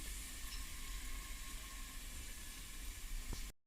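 A papad vegetable curry cooks in a pan on the stove with a faint, steady sizzle and hiss that cuts off abruptly at the end.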